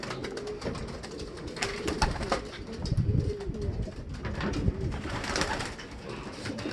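Several racing pigeons coo at a club loft during training, their soft throaty calls overlapping steadily at close range with no talking.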